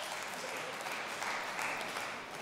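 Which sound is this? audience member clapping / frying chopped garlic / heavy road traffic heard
audience member clapping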